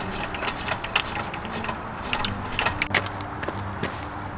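An electric RV tongue jack lowers a leveled camper onto leveling pads. Its motor gives a steady mechanical whir with irregular ratcheting clicks and clunks, close and moderately loud.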